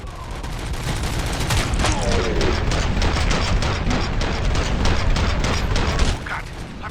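Sustained, dense gunfire from the RoboCop: Rogue City video game, a loud continuous fusillade of rapid shots lasting several seconds with steady intensity and a slightly sharper burst near the end.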